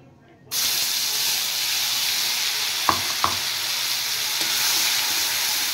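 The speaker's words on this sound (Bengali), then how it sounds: "এবার দেব পেস্ট করে রাখা মশলাটা।" Spice paste hits hot mustard oil in a wok with whole cumin and bay leaf, bursting into a loud, steady sizzle that holds throughout, with a few sharp clinks of a spatula against the pan.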